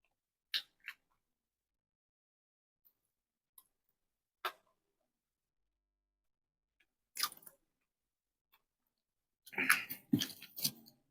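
Crispy food crunched between the teeth: a few isolated sharp crunches spaced apart in near silence, then a denser burst of loud, close bites and chewing toward the end.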